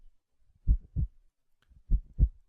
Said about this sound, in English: The heartbeat running through this is not decoration.